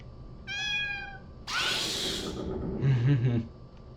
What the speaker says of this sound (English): What a strange cat.